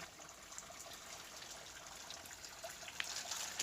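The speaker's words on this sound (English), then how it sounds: "And look at this, nice pretty little drips there." Water drips and trickles inside Silver Run Tunnel, a railway tunnel in West Virginia, as a faint hissing wash with a few soft splashes, distant and low, with no speech.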